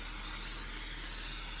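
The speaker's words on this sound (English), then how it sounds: "I'm gonna spray it here with some" Coconut cooking oil spray released from a can over a pan with kale, a continuous close airy hiss that holds steady for under two seconds with no speech.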